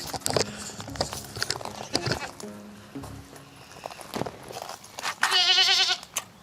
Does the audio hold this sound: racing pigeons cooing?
no